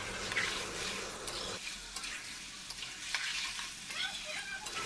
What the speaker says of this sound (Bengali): মাংসগুলোর মধ্যে এরপর আমার ভেজে রাখা আলুগুলো দিয়ে দিলাম, দিয়ে একসঙ্গে কষিয়ে নেব।